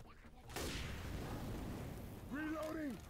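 Fireworks boom in the Dark Carnival finale of Left 4 Dead 2, a deep rumbling burst with a sustained roar after it, heard from a distance alongside a whistling launch toward the end.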